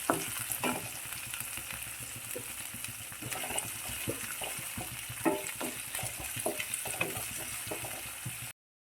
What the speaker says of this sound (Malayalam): ചുവന്നുള്ളി അരിഞ്ഞു വെച്ചത് ചേർക്കുകയാണ്. അതൊന്ന് ചെറുതായിട്ട് വഴറ്റണം.